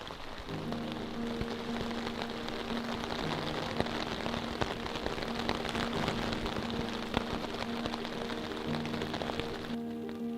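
Heavy rain pours steadily onto a waxed canvas tarp sheet left outdoors, making a dense, continuous drumming patter that fills the whole stretch with no voices.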